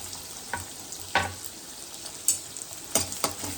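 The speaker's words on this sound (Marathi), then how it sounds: "मिरचीचा तडका चालू आहे ऑलरेडी, पूर्ण नाही करू द्यायची." Green chillies tempering in hot oil in a home kitchen, a steady crackling sizzle with a few sharper pops and stirring scrapes.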